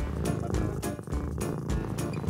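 A cat purrs up close, a steady rumbling rhythm pulsing with each breath, loud and continuous throughout.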